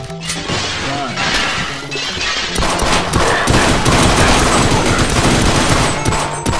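Assault rifle fire in the co-op shooter Sven Co-op, loud sustained rapid bursts with crashing impacts that run almost continuously.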